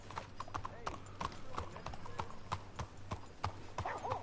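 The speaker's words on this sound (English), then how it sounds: "What are you doing, horse? Get off the pavement." Horse hooves clip-clop steadily on pavement in the Red Dead Redemption 2 video game, a quick irregular run of hard knocks over faint background ambience.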